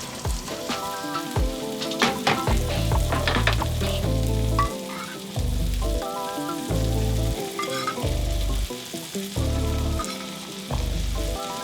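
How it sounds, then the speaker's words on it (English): Crayfish frying slowly in butter with fresh garlic, seasoned with salt, pepper and garlic powder, a close, steady sizzle broken by repeated bursts of stirring and scraping in the pan, with no talking. "Just dropping it into some butter with some fresh garlic and just cooking it slowly"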